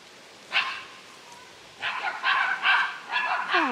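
Dogs bark nearby in a garden. One sharp bark comes first, then a quick run of loud yaps and barks lasting a couple of seconds, over a quiet outdoor background.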